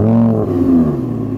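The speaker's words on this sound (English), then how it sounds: "So let's start the Audi up, come on." The naturally aspirated V10 of a rear-wheel-drive Audi R8 rumbles loud and close with strong harmonic tones, its pitch dipping briefly as the engine settles after firing up.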